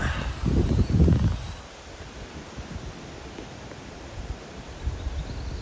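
Wind gusting through tree leaves outdoors on a clear day, a soft broadband rustle that swells strongly at first and then settles into a steady, gentle hiss.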